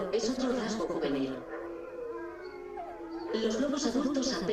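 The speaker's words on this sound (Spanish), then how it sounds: "En vez de eso, aúllan para marcar su territorio y cazar con la manada" Several wolves howl together in long wavering tones, fading to a thinner chorus midway before swelling again, fairly close and unaccompanied by speech.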